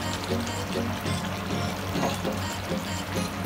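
Bihari-style mushroom curry is emptied from a cooking pan into a serving dish, giving a soft, steady pouring and sliding sound of thick liquid, fairly quiet and close, with no one talking.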